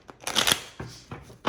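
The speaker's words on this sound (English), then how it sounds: "I blow on the deck, give it a knock and a shuffles, clear any energy from past readings." A deck of tarot cards being knocked and shuffled, with several quick papery riffling bursts close by and no talking.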